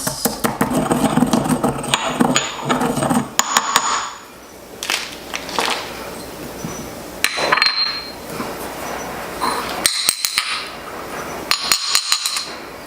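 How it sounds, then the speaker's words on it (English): Peppers, black pepper and cloves being ground for a mole de espinazo, a busy rattling, clattering grind with short pauses, close and fairly loud with no talking. "I'm gonna go ahead and add everything here, and I'm gonna grind this."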